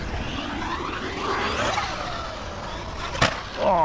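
Traxxas Rustler RC car driving off, a whining electric motor sweeping up and down in pitch with tire and gravel noise, a sharp impact near the end, then the whine rising again.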